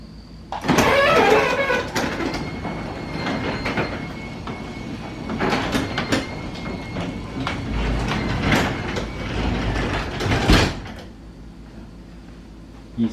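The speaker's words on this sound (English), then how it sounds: "when the door gets to the bottom, that last little bit of travel pushes the garage door closed" A garage door with a bar attached rumbles and rattles as it travels down and shuts, a long rolling mechanical grind with a louder thump near the end, then quiet.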